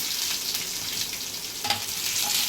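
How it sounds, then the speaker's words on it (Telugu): Urad dal, chana dal and cumin frying lightly in a pan for tomato bath upma, a dense continuous sizzle with brief stirring scrapes, close and fairly loud, with no voices. "కొద్దిగా మినప్పప్పు, శనగపప్పు వేసుకొని లైట్గా వేయించుకోవాలి. చల్లారాక ఆనియన్ ముక్కలు వేసుకొని"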